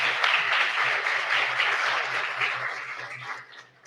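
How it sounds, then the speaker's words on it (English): Audience applauding panelists at a civic event at a presidential center: dense, steady clapping from a room full of people, fairly close and loud, tapering slightly at the end. "Let's give them a round of applause,"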